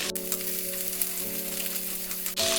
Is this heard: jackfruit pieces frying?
yes